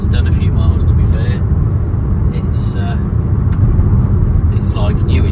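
A 2019 Peugeot Partner 1.6 BlueHDI Professional L1 van is driving, with a continuous low engine and road rumble from inside the cab while someone talks over it.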